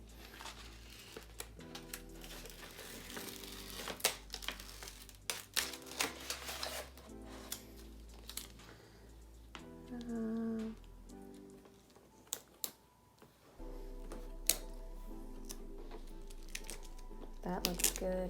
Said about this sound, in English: You can just peel it off and stick it into place.